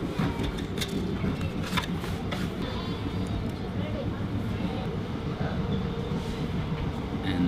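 Steady rumble and clatter of a moving train carriage, with faint voices murmuring in the background throughout.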